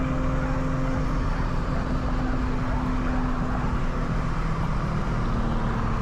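An 800 hp turbocharged Infiniti G37 accelerating, a continuous loud roar with a steady engine drone that holds evenly for several seconds, with no talking over it.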